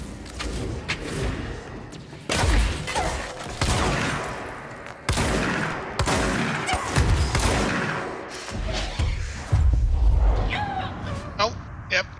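Gunfire and thuds of a fight-room battle in the video game Control, with bursts of shots and heavy impacts spread across a loud, busy stretch, mixed with a voice talking over the action.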